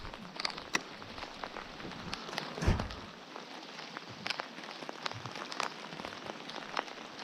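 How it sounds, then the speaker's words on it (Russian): Steady patter of rain falling on water during a thunderstorm on a fishing trip, with scattered louder drops and a brief thump partway through; no talking. "Вот я заметил, дождь идет"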